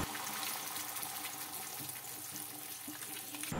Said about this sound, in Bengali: সামান্য জল দিয়ে দিতে হবে।